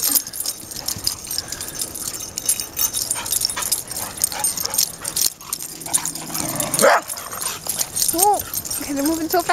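Several puppies whimper and give short yips among rustling movement, with a few rising whines near the end; people talk softly in the background.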